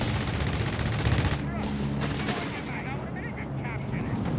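Gunfire from a light strafing run in the strategy game Company of Heroes 3, a dense rattling burst of automatic fire blended with other battle noise, fairly loud and continuous, with a voice talking over it.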